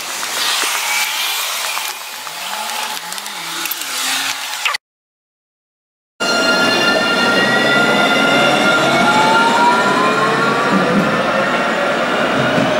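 A tram at a railway station tram stop in Nottingham hums and squeals along its rails at close range, with a rumbling low drone and high metallic screeches, broken by a short gap of silence.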